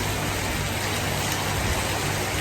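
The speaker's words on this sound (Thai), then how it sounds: "ฝนตกหนักมากครับ ไม่ได้ไปเลย" Heavy rain pours down in a dense, constant roar of broadband noise with no pauses.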